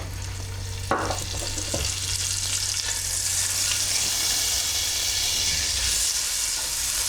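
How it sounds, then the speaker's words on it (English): Butter dropped into hot olive oil in a pan over low to medium heat, with a brief clatter and then a steady, even sizzle and hiss that carries on unbroken. "So I've got about 4 tablespoons of olive oil in a pan, bringing that up to boil. And to add in our butter."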